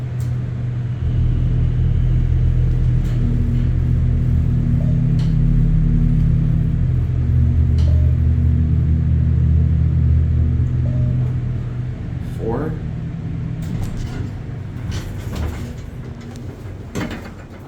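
A modified General/Delta hydraulic elevator in the Concord Building hums with a steady low rumble throughout its ride, with faint clicks and a brief rising whine near the end as the car slows.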